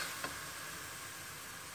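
A stir-fry of spinach with oyster sauce sizzles in a pan, a quiet, steady hiss with one brief clink early on and no talking.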